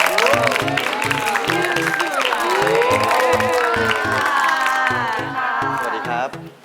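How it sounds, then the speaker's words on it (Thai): A Thai television studio audience for The Face Thailand claps and cheers to welcome a Maybelline New York mentor, with loud crowd noise over a thumping music track and whoops running throughout. "ขอเสียงปรบมือต้อนรับ"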